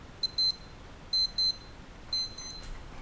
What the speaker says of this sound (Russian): То есть будильник у нас включен. Проверим, как звонит.